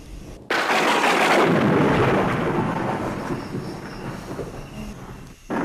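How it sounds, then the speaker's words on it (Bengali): A heavy thunderclap rolls in suddenly from a storm outside, loud and sustained before slowly rumbling away over several seconds. "বাইরে বিদ্যুৎ চমকাচ্ছে, ঝড় বৃষ্টি হতে পারে"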